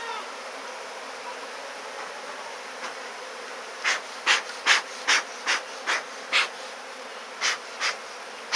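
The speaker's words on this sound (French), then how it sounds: "Les abeilles se suivent et rentrent les unes derrière les autres." Bees from a captured swarm hum softly and steadily up close as they file into their new hive, with a run of louder, short buzzing passes in the second half.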